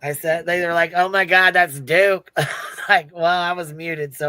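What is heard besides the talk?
No everyday noises stand out.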